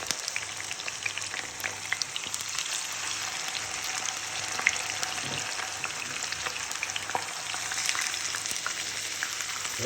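Marinated chicken frying in oil over medium heat for Senegalese chicken yassa, a dense continuous crackling sizzle with fine spitting pops, close and steady throughout with no talking.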